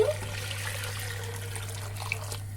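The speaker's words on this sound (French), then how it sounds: "Je vais maintenant y ajouter le bouillon de viande." Meat broth poured into a pan for Liège-style meatballs in rabbit sauce, a soft continuous trickle of liquid heard close with a low steady hum beneath and no talk.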